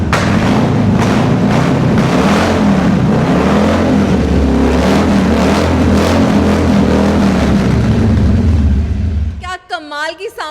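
A Harley-Davidson Iron 883 motorcycle's exhaust burbles with a deep, loud, continuous low rumble close by, then cuts off abruptly near the end.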